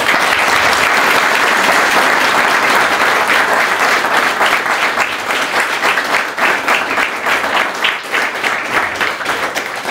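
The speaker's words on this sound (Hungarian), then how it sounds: "azt hiszem, hogy megérdemelnek egy tapsot" Loud, dense applause from the audience at an interfaith mini-conference, many hands clapping continuously with a slight fluctuating rhythm toward the end.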